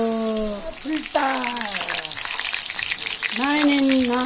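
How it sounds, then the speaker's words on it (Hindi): Chicken momos fry in a home pan with a steady broadband sizzle and crackle throughout, while a person talks over it in several phrases. "तो हम मोमो फ्राई बना रहे हैं। मोमो फ्राई देखो देखो"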